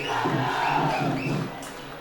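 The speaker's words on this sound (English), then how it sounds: "As you can hear, that's the cheer up from our Vidyarthians coming on and on." A crowd of Vidyartha school supporters cheers and chants at a school rugby match against Sumangala, a loud sustained roar of many voices that fades after about a second and a half.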